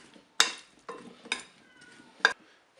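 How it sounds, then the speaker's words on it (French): Potatoes tossed with oil in a bowl, a few distinct close scrapes and clinks spaced out over a quiet background. "je vais verser l'huile sur les pommes de terre et puis on va mélanger ça"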